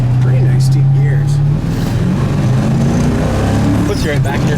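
A 1964 Mercury Comet Cyclone with deep 3.50 rear gears accelerates hard in cold weather, its engine drone loud and rising from inside the car while occupants talk over it.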